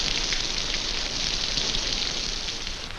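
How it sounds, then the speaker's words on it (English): Steady rain falls in the jungle, a dense continuous hiss of drops pattering evenly with no pauses or voices, moderately loud throughout. "Even the rain works for them, filling open containers with good drinking water."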